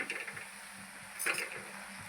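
Vegetables, dill greens with lentils, being stirred with a spoon or slotted ladle in a pan over a high flame, giving a soft steady sizzle with a brief louder scrape of metal near the end.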